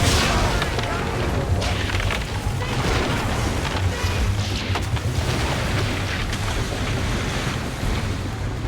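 Ship cannons firing in an Assassin's Creed naval battle set in 1778, a dense run of heavy booms over rushing sea and wind, with shouted voices mixed in.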